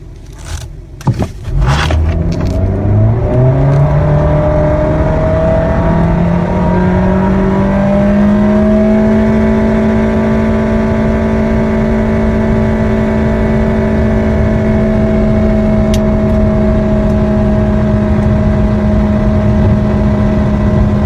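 A Nissan or Renault car with a Jatco CVT accelerates hard, the engine note sweeping up quickly and then holding at a constant high rev as the car keeps pulling, loud and continuous with no talk.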